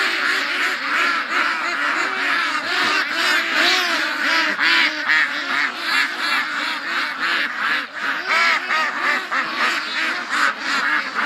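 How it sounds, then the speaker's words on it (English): A large flock of ducks quacks continuously at a swamp, a dense, loud, overlapping chorus with some honking, close by and steady throughout. "Yes, duck."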